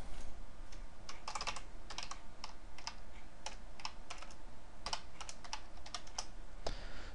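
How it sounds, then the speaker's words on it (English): Close, continuous typing on a computer keyboard, with irregular bursts of crisp key clicks and a louder thump near the end, alone over a quiet background hum. "Let me shrink this down so you can see me actually typing these out."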